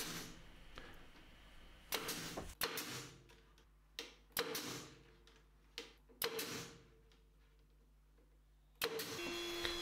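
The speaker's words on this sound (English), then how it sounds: "I use the nail gun to hold it together." Nail gun fastening a glued cabinet frame in a workshop, several sharp separate shots spaced a second or two apart, each with a short decay, over quiet background.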